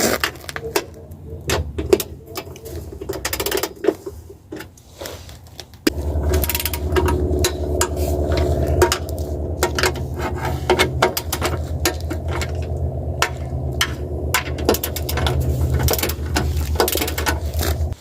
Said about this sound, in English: I've got this torque wrench.